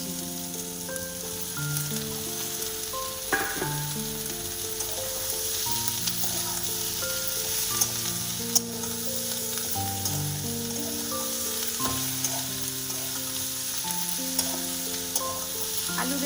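Potato and eggplant pieces frying in oil for a mourola fish chorchori, a steady soft sizzle running throughout beneath background music, with no one speaking.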